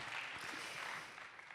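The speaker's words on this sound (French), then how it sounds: "merci beaucoup pour ces témoignages et on peut les applaudir à nouveau. Applaudissons-les" Quiet, steady applause from an audience honouring award winners at a ceremony, a soft continuous wash of clapping with no voices over it.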